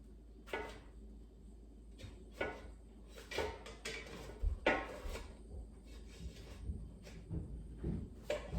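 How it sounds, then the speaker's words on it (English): Frozen chicken burritos get flipped after an air fryer basket is pulled out, giving quiet scattered clinks, scrapes and light knocks of metal and utensils at an irregular pace, close but soft, with no talking. "let's take out the air fryer basket and flip the burritos to the other side so they cook evenly"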